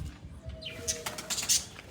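Pigeons cooing and calling while being fed wheat grain, several soft coos and a few higher chirps close by with some wing and pecking noise, no talking.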